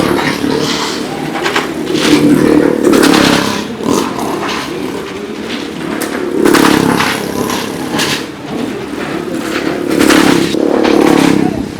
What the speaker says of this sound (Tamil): என்ன பைக்? யமாஹா ஏதோ ஒரு பைக்.